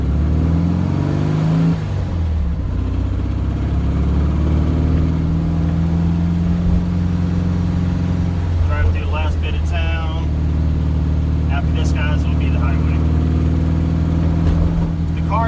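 A Volkswagen engine with a glass-pack style exhaust idles and runs continuously with a low, throaty drone, a slight sputter and a few revs in the second half, heard up close.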